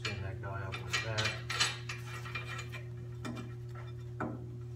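A bolt being spun on by hand with a ratchet while mounting a snow plow onto a 1941 Farmall A tractor, giving a series of close mechanical clicks and metal clinks over a steady background hum.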